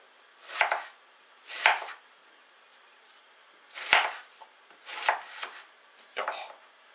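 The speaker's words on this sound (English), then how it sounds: "I'm just going to chop these up." Knife chopping ingredients for a sausage, egg and tomato pasta on a cutting board, five separate bursts of close, crisp cuts spaced about a second apart with quiet gaps between.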